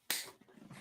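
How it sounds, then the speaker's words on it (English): One sharp hand clap rings out close by, followed by a brief quiet tail. "I'm going to clap over here."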